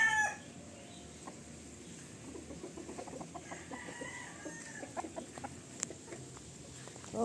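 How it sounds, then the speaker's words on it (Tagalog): Roosters crow and chickens cluck at a rural spot, a scatter of repeated clucks and calls at moderate distance over faint background noise, with no talking. "May ano dito, may pasabo na mga manok. Chicken."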